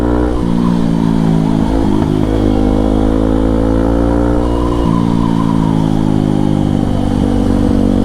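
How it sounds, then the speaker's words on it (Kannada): A Kawasaki KLX motorcycle with a free-flow exhaust revs loudly and close by, its exhaust note rising and falling through several throttle blips over a steady idle. No voices are heard. "ಎಕ್ಸಾಸ್ಟ್ ನೋಟ್ ಕೇಳಿಸ್ಕೊಳ್ಳೋದೇ ಒಂಥರ ಖುಷಿ ಬಾಯ್ಸ್. ನಂಗಂತೂ ಸಿಕ್ಕಾಪಟ್ಟೆ ಖುಷಿ. Exhaust KLX"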